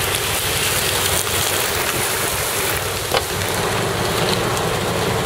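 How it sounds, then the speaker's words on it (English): Steady, dense downpour roaring continuously, with a faint patter of drops hitting surfaces nearby; no voices. "Good Lord, it's raining outside."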